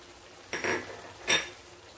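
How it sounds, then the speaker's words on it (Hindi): Spices such as cumin powder and garam masala stirred into kadai chicken in a pan, with two brief scraping clanks of a spoon against the metal, close and fairly loud, over a quiet background. "इसे अच्छे से मिक्स करेंगे।"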